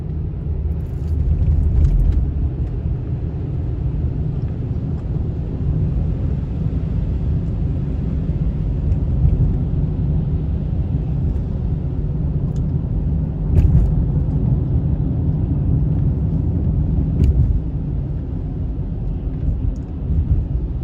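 A car drives over a snowy, snow-dirtied ramp crossing Main Street during a winter bomb-cyclone storm, giving a steady low road rumble with wind noise and a few faint clicks, and no talking.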